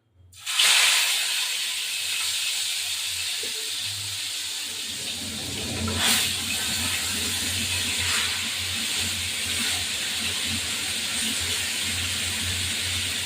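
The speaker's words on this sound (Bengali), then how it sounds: "মাছটাকে এখন ভাজা ভাজা করবো" Catla fish pieces coated in salt and turmeric fry in a pan of oil, giving a steady loud hiss with crackle that keeps up without a break, and no one speaks.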